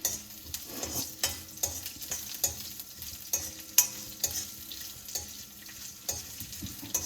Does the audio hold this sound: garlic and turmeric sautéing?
yes